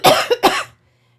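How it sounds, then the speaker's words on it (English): Two people coughing in quick succession in a dusty entranceway, an audio drama effect; a close burst of rough coughs, a short pause, then a second coughing fit before silence. "They both coughed."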